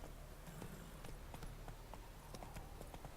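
A horse's hooves clip-clop at a steady walking pace in a fantasy video game with a griffin head hanging from the saddle, quiet regular hoof strikes over a low ambient hum.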